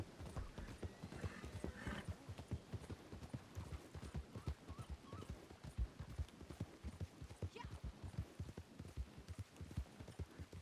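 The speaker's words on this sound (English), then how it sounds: "Whoa, random horse." Horse hooves clip-clopping at a steady walking rhythm in the video game Red Dead Online, with a brief whinny, close and continuous under light ambient noise.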